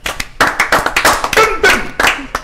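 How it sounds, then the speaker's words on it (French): A TV studio audience claps in uneven, distinct bursts for a couple of seconds, individual hand strikes standing out sharply and close. "applaudissez pour les femmes"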